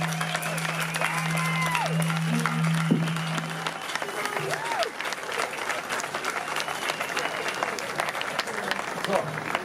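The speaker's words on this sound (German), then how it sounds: "Ich möchte mal einen ganz großen Applaus an die Rigging Crew, die Bühnenbauer, die den härtesten Job hatten in den vergangenen Tagen" Concert audience at an orchestral show in Essen claps for the rigging crew, a broad sustained ovation with scattered cheers, while a voice and a low hum come through near the start.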